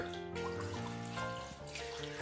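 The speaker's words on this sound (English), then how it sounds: "Just put enough water in the pot to cover the pork." Water running steadily from a tap into a cooking pot to cover pork for boiling, a continuous close splashing stream filling the pot.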